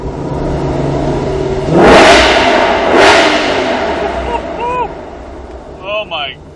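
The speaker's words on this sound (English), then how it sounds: "Going through the tunnel, gotta rev it." A 2020 Ford Shelby GT500 engine revs hard inside a tunnel, two loud booming surges roughly a second apart rising over steady engine drone, with a few brief whirring shifts after and a person talking throughout.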